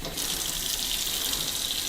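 Kitchen sink tap running water onto a pan with burnt-on cheese: a steady, close hiss and splash that starts abruptly and continues without pause.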